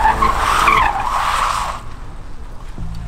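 A modified Datsun 240Z sliding in drift mode, with loud tire squeal that rises and wavers over engine noise for under two seconds, then fades to a quieter engine rumble.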